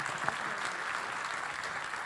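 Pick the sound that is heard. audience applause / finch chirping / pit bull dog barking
audience applause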